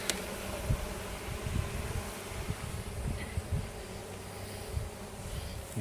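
Honeybees buzzing around a hive box after swarming, a dense, steady hum that fills the air near and around, with occasional bees zipping close past.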